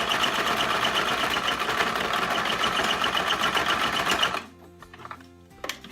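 A cheap Lidl sewing machine runs loudly and steadily with a fast mechanical buzz and stitching rattle, then stops abruptly near the end, leaving a few faint clicks.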